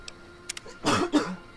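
A single short, close cough, preceded by a few faint clicks, in an otherwise quiet room.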